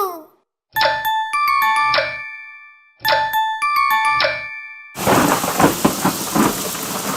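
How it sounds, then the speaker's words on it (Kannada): Cartoon rain arrives after a pair of chiming musical stings, the final seconds filled with a dense, steady downpour hiss, loud and close. "ಮಳೆ!"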